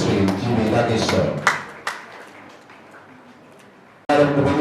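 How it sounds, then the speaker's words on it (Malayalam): Students are applauded at an award ceremony at Mokeri Rajiv Gandhi Memorial Higher Secondary School: a burst of crowd clapping with a few sharp claps trailing off, while an announcer speaks over a microphone. "നല്ലൊരു കയ്യടി കൊടുത്ത"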